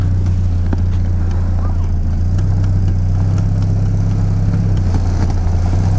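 Lada Niva with a carburetor and a lowered 3.07 transfer case, crawling out in low first gear while the engine drones with a steady, loud low rumble, with people talking nearby.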